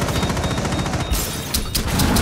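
Rapid automatic gunfire in a Rainbow Six Siege team deathmatch on the Kanal map hammers away loud and close, with overlapping bursts and a few sharper cracks, almost without a break.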